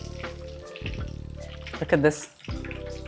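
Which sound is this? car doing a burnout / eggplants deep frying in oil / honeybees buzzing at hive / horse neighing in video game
eggplants deep frying in oil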